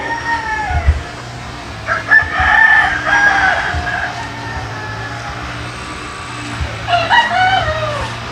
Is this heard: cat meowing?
no